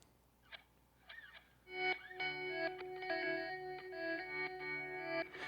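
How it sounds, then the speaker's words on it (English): Electric guitar with reverse ping-pong delays, swelling notes bouncing side to side in a dry rock mix, sustained effected chords filling the space after a few sparse plucked phrases. "we kind of have this ping pong delay thing happening, but it's all these reverse delays"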